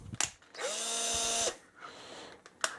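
A Sears Craftsman 13.2 volt cordless drill runs for about a second with a steady motor whine, set off by brief clicks from its switch or chuck before and after.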